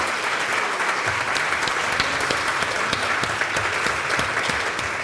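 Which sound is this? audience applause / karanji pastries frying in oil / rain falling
audience applause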